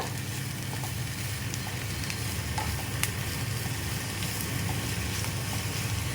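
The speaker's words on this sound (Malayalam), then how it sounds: "നന്നായിട്ട് വഴറ്റുക" Vegetables with carrot sauté in a pan for masala dosa filling, giving an even, continuous sizzle at moderate volume with faint stirring taps.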